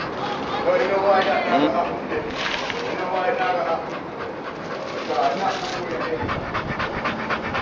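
A dog pants rapidly and steadily up close, with faint bird cooing and a voice in the background.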